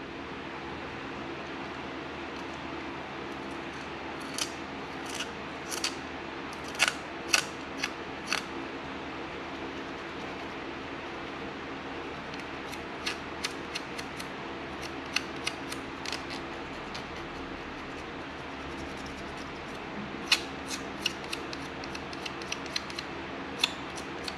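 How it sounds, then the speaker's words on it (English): Razor blade scraping hardened rubber off a Honda Goldwing part, bursts of short crisp scratchy strokes in irregular clusters over a steady background hum, close and fairly quiet, no talking. "I think I'll take a razor blade and scrape that off"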